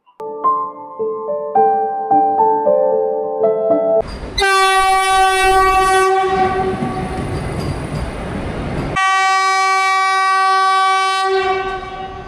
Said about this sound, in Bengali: মেদিনীপুর থেকে প্যাসেঞ্জার নিয়ে ট্রেন এসে পৌঁছালো হাওড়া স্টেশনে